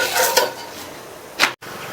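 A veg roll gets flipped in an oiled pan with a spatula, giving close metallic scrapes and a clatter against the pan over a low background sizzle, followed by a brief silence.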